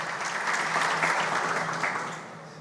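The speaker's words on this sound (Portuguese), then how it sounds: "uma salva de palmas para todos vocês que estão fazendo a diferença aí no nosso Noroeste Paulista" Steady applause from an audience at a regional mayors' debate dinner, a dense wash of many hands clapping that holds evenly before tapering off slightly, with no talking over it.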